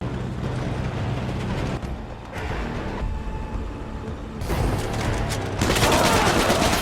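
Film battle scene of prisoners firing wildly on soldiers riding a truck: dense, continuous bursts of gunfire and rumbling booms, loud and close, building in intensity toward the end with no talking.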